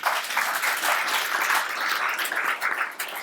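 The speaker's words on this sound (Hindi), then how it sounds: "दीदी के लिए ताली तो बजाइए" A live audience at a Hindi spiritual discourse on the Valmiki Ramayana claps steadily for a woman in the crowd, a dense, even patter of many hands sustained for about three seconds without talk.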